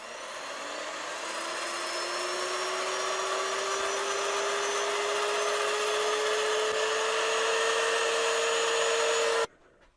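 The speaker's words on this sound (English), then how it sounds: "now I'm going to turn it at slow speed. And I'm going to be sanding with the bottom part of the disc" A wood lathe spins a winged box at slow speed while a sanding disc works against it, giving a steady, loud motor whine with a slowly rising tone that runs nearly the whole time and then cuts off abruptly.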